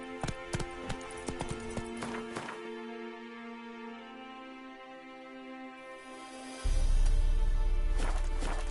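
Hooves of Roach the horse in the game Witcher 3, a quick run of close clip-clop beats that pauses to a steady tonal background, then returns alongside a louder low rumble near the end.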